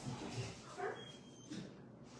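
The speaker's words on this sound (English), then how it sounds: "Sorry, I stirred up the dogs" Dogs stirred up indoors give a few short, muffled barks and yips with a faint whimper, somewhat distant and soft, with no talk.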